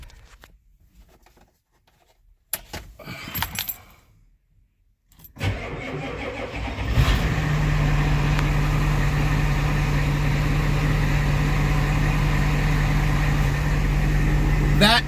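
Supercharged Ford 7.3 IDI diesel cranks through a few clattery attempts, catches and settles into a loud, steady, rumbling idle that carries on to the end, with some talk near the start.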